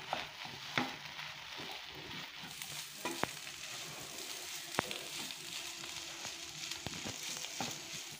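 A spoon works through potato bonda filling in a pan, giving soft continuous stirring and scraping with a few sharp clicks against the metal. The sound is fairly quiet and there is no speech.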